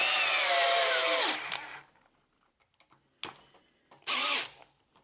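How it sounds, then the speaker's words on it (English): Makita and Hypertough cordless screwdrivers run at speed 2: a high motor whine spins down after a second, then comes a quiet gap with small clicks and a second short burst of motor whine. "Makita and Hypertough, both at speed 2."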